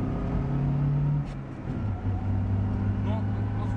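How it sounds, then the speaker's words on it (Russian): Inside a Lada 4x4 on the move, a loud, steady engine and drivetrain drone fills the cabin, with a slight rise and fall in pitch as the car drives on. "шумит очень сильно машина"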